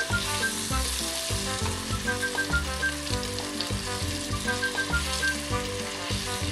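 Banana pieces fry in browning butter, a dense, loud crackling sizzle that holds steady while they are gently turned in the pan.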